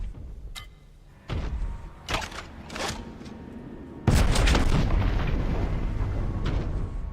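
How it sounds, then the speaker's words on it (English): A cannon in the video game Warhammer 40k: Boltgun fires several heavy, booming blasts in sequence. A final large explosion follows and rumbles on with a sustained roar. "Just fired the cannon."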